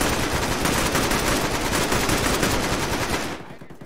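Sustained automatic gunfire in the Arma military shooter, a dense rapid burst of loud shots that runs for over three seconds and then cuts off abruptly, with no talking.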